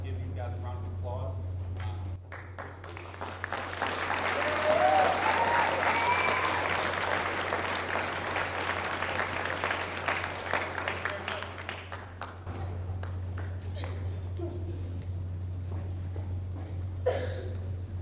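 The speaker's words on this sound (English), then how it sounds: "So, with that being said, I would like to give these guys a round of applause." An audience applauds at a 2011 senior awards ceremony. The clapping swells into a sustained roar, then gradually thins out, over a low electrical hum and some faint voices.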